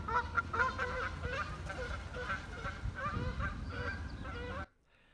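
A flock of Canada geese honking continuously outdoors, many overlapping nasal calls at close to moderate distance over a steady background rumble, stopping abruptly near the end.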